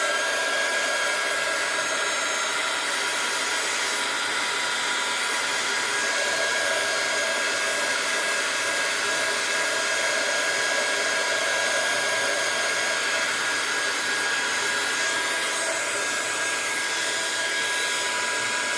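A hair dryer blows steadily and loudly for the whole stretch, drying ink on a craft project. The airy whir is constant and close with no pauses.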